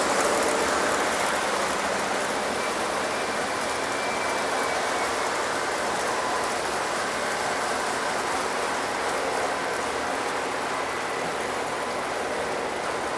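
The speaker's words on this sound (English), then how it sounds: "There goes the passenger train." A Lionel model passenger train runs steadily on its layout, a continuous mid-range motor hum and rolling whir at even loudness throughout, with no voices.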